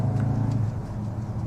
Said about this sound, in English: Now the exhaust note gets really boomy, but there is an element of piped in exhaust.